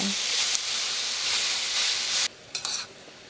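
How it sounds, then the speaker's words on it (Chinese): Shredded white radish is stir-fried with Chinese sausage and cured pork rendered over medium heat, giving a loud, even hiss that cuts off abruptly, followed by a brief clatter of a utensil. "炒香之后，就可以把萝卜丝放进来。"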